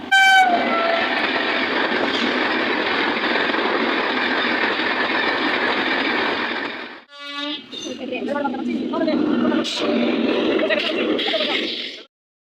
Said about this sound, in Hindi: फिर फाइनली दोनों ट्रेन निकल जाती है